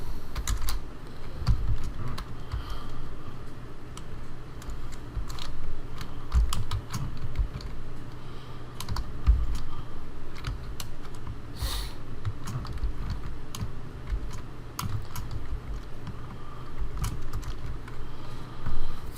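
Steady keyboard typing, a fast irregular patter of key clicks close by, with occasional louder strokes over a low background hum.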